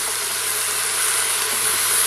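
Pork pieces browning in a pot for a Caribbean colombo, giving a steady close hiss and sizzle with no break and no voices.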